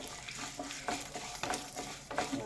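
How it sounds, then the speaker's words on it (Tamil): Three dried red chillies with their seeds frying in hot oil in a pan, a steady sizzle with scraping stirs repeating about every half second, close and fairly quiet. "இதெல்லாமே கொஞ்சம் நேரம் ஃப்ரை ஆகட்டும்."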